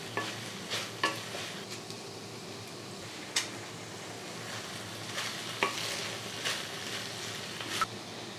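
Eggplant (brinjal) frying in a pan with crushed chili, a steady sizzle broken by repeated scraping stirs of a spatula, several distinct clanks spread across the stretch.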